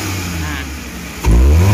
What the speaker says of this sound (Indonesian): saat idle kita langsung gas. Ini idlenya ya sekitar 900-an. Ini kita gas nih.